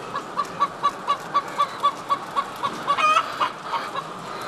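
Hens cluck in a modern hen house, a rapid regular run of sharp clucks close by, followed by a busier stretch of overlapping calls over a dense background murmur of the flock.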